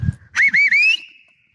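A person whistles in the wilderness: a short sequence of clear, rising and wavering tones, sounding faint and distant against quiet surroundings.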